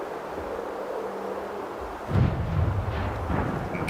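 Airstrike explosions in the NOCT video game: a low rumbling blast begins midway after a quiet stretch of background hum, followed by rolling booms and a sharp crack at the end.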